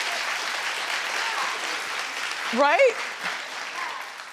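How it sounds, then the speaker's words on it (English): A studio audience claps steadily and loudly throughout a talk show segment, with a presenter speaking briefly over the applause. "Clap if you believe everything Ray J says"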